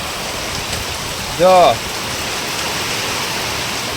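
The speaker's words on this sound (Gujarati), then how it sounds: "બાકી વરસાદ છે ને ફૂલ ચાલુ છે" Heavy rain pours steadily over farm fields, a dense unbroken hiss throughout, with a voice speaking one short word over it.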